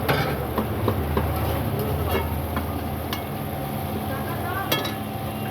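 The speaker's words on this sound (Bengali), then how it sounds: "এই যে এতখানি পেঁয়াজ মাছের তেলে আমি কিন্তু দিই" Raw onions frying in fish oil in a pan, a steady sizzle with occasional sharp crackles and clinks of stirring, fairly close, while a voice talks faintly alongside.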